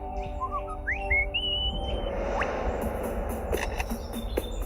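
A lyrebird mimics a camera shutter, a short run of rising whistled chirps followed by a series of quick clicking bursts, close and fairly loud against a faint background.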